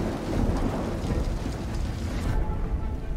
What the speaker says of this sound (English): For the locals, it's Normandy's worst rain in 20 years.